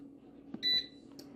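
A single short electronic beep from an air fryer as its timer is set, clear and close over a low steady hum.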